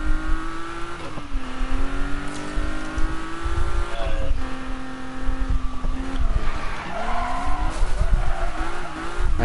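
Video game race car engines roar and rev continuously with squealing, skidding tires, one engine's pitch rising and dropping through gear changes as the player races an opponent.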